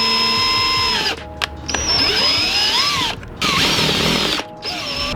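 A power drill bores a hole for mounting a front splitter on an Audi S3, a loud whining motor that dips and rises in pitch across several bursts with brief stops between them.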